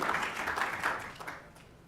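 Audience applause at a panel discussion, a steady wash of clapping that gradually fades toward the end.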